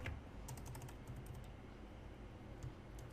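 Soft clicks of a computer keyboard being typed on, a few quick bursts of keystrokes near the start and again toward the end over a steady low hum, no talking.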